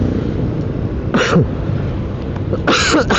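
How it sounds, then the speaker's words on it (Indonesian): Two short bursts of coughing, fairly close and loud, separated by a pause over a steady background hiss. "batuk lagi, maaf"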